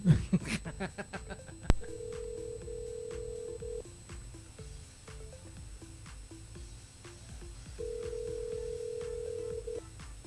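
Telephone ring tones on a radio call-in show, two long electronic ringing bursts separated by a pause, preceded by a short burst of noise.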